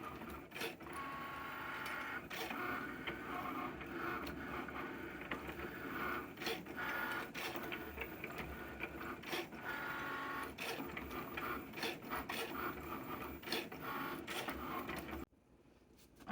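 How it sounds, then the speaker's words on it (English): Cricut cutting machine slicing a red glitter sheet, a quiet steady mechanical whir broken by frequent scraping strokes and little clicks as the carriage moves, stopping suddenly near the end. "let me go back to the Cricut"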